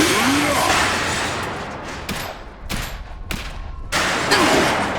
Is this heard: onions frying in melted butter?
no